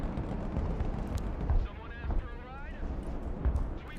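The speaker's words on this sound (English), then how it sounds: "Oh, okay, that's allied artillery." Distant allied artillery fire booms in the real-time strategy game Broken Arrow, a few dull low thuds rumbling over a steady battle background with faint whistling tones.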